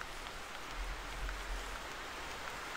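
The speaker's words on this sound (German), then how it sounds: "Regnet schon wieder, ey. Das nervt." Steady video game rain in theHunter 2015 falls with a soft hiss and scattered droplet taps, quiet and continuous.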